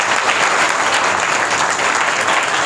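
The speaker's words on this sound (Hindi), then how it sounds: "तालियां बजाओ" An audience at a religious lecture claps steadily, a dense, loud, even burst of applause with no voices over it.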